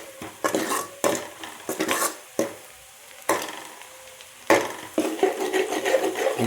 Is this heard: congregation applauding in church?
no